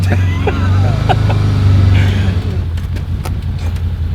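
A loaded truck driving in low gear gives a steady, deep engine drone close by, with voices talking over it.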